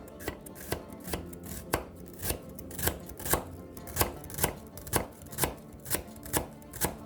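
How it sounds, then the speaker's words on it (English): A knife slices shallots thinly on a cutting board, with crisp, evenly spaced chops in a steady rhythm, close and clear with no talking. "Slice your shallots very thinly."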